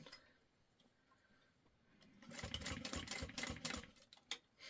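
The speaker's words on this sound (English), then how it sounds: "I'm going to stitch. It's a little bit thick, so if your machine can't handle that, I wouldn't do the double fold." A sewing machine stitching through a thick, double-folded handbag strap: after a quiet start, a close, fast run of rhythmic mechanical ticking, with a louder knock near the end.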